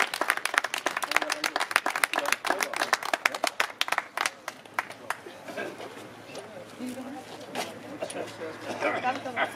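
Hearty applause from a crowd at the Gelsenkirchen trotting racetrack, honouring its oldest trainer: dense, loud clapping for about four seconds that thins and fades while voices talk underneath.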